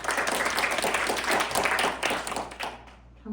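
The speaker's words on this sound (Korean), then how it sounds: "좋은 말씀 해주신 노승용 교수님께 다시 한번 큰 박수 부탁드립니다" An audience gives a professor a round of applause at a university event, with dense, steady clapping from a crowd that tapers off toward the end.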